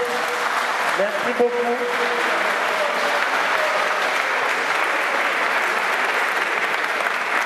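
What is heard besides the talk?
audience applause at a conference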